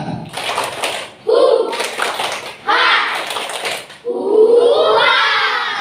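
A group of children in a classroom claps in a chant, with three or four loud bursts of clapping mixed with their chanting voices, close by.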